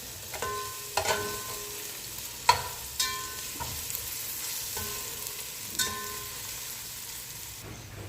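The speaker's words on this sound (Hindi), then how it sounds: "अब ये भी हम इसमें डाल देंगे और इसे अच्छे से इसके साथ भून लेंगे" Steady, quiet sizzling of dry-roasted whole spices frying with ginger-garlic paste in a pan, broken by occasional sharp clinks and scrapes of a stirring utensil.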